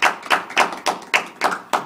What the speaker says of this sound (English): Let's all give Andy a round of applause.